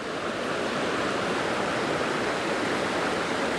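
River water flows in a continuous, dense rush, steady and fairly close, with no voices or other sounds over it.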